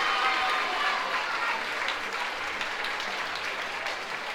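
A ceremony crowd at the 2018 Laugh Out Loud Book Awards applauds the winner of best picture book, producing a dense, continuous wash of many hands clapping at fairly even loudness throughout, with no speech over it.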